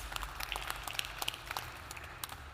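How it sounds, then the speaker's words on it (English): An audience at an energy leadership conference applauds its panelists, a short burst of dense, steady clapping heard in a hall, moderately loud and without speech. "A round of applause for our panelists"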